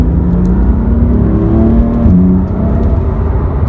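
A BMW M4 engine hums steadily at close range with a smooth whir, the pitch shifting briefly mid-drive as it changes gear.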